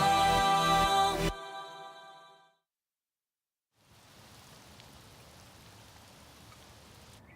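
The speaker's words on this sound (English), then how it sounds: "It looks like the rain is concentrated on that village." Rain falling over a village in the Fairy Tail anime: a soft, even wash of rainfall that starts after a brief silence and continues steadily. Music plays before the rain and then fades out.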